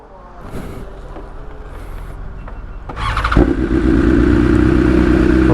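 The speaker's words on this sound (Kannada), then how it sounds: "ರೇಸ್ ಮಾಡಲ್ಲಿ ಇಕ್ಬಿಟ್ಟಿದ್ದಾನ ನಮ್ಮ ಜಿಮ್" A motorcycle engine fires up partway through after a few quieter knocks and clatters, then roars loudly and steadily close by, holding a strong, even drone to the end.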